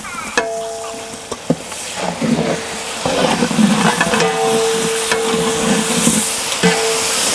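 Onions, mint and coriander sautéed in ghee with steady sizzling and repeated stirring scrapes and clinks of a spoon against the pan, close and fairly loud.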